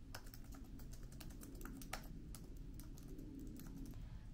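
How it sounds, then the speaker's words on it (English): Someone types on a computer keyboard while designing logo text, a quiet, close run of irregular key clicks with a faint room hum beneath. "I'm gonna go ahead and just type out everything in Impact."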